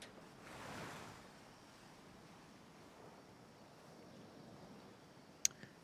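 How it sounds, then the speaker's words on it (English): Soft, steady sea surf washing in the distance across the Oceanus Ethiopicus in Empire: Total War, a low continuous rush with one faint swell early and a sharp click near the end. "Just looking at the sea, Oceanus Ethiopicus."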